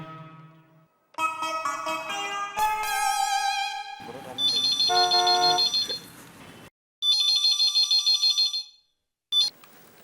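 A telephone rings in a Hindi sitcom scene, with loud, bright electronic ringtone bursts in a repeating pattern, separated by short silences and preceded by musical tones.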